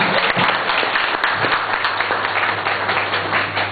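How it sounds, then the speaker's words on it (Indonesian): A church congregation applauds steadily throughout, a dense, continuous burst of clapping from a large crowd that stays loud from start to finish with no talk over it. "Mari kita berikan aplaus dulu untuk gereja kita."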